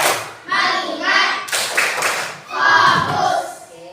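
A primary school class performing the rhythmic "tepuk fokus" focus clap, with bursts of children's hand claps alternating with chanted voices in a lively classroom.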